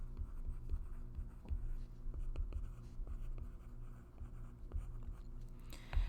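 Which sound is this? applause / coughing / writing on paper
writing on paper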